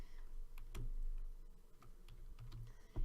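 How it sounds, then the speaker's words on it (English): Typing on a computer keyboard gives scattered, light, close key clicks at an uneven pace over a quiet room hum. "when I start typing something"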